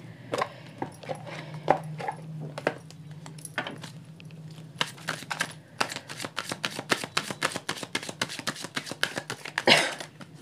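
Tarot cards are shuffled and drawn by hand, giving close, dry riffling and flicking taps, first sparse, then a denser run of quick card slaps.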